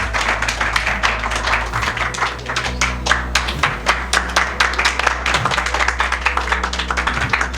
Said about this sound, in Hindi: सर के लिए ज़ोरदार तालियां करें यार